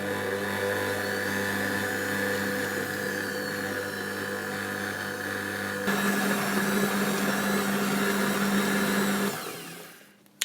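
An electric mixer kneads white and wholemeal bread dough with a loud, steady motor whir that shifts to a rougher, busier tone partway through, then winds down and stops near the end.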